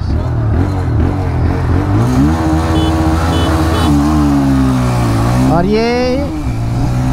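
A TVS Raider 125 and a Honda SP 125 motorcycle racing at top speed, their engines droning loudly and rising in pitch as they accelerate, while someone talks over the engine noise.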